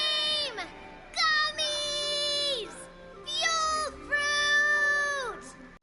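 Shrill, wavering screams from a character in Genshin Impact come in repeated loud bursts, falling and rising in pitch across several seconds, with short gaps between them.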